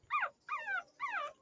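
Abandoned puppies whimper in three high, wavering cries, close and clear with short pauses between them.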